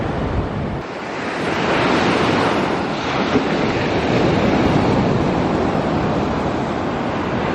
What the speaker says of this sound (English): in the morning, the water always washes up over here in the middle